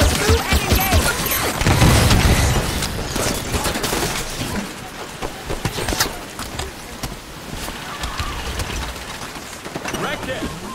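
Turret gunfire in Halo 5: Guardians, with dense rapid bursts of automatic fire and impacts mixed with battle noise, loudest in the first few seconds and continuing through the combat.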